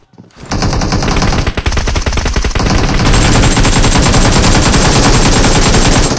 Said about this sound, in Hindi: फायरिंग चल रही है सामने